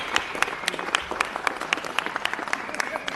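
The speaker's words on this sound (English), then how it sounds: "Just give him a real round of applause." A crowd applauds with dense, steady clapping throughout, moderately loud and sustained.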